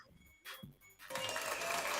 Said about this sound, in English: Trying to get these claps in all at the same time.